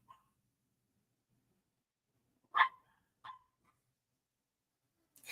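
Puppies let out a few short, sharp yips spaced apart by silence, faint and isolated against a nearly quiet background.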